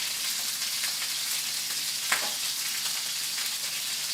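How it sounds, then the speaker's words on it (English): Steak sears in a very hot pan, giving a loud, even, close sizzle that holds steady throughout, with one brief crackling flare in the middle. "you can hear that as soon as you go in. We're developing a sear on it"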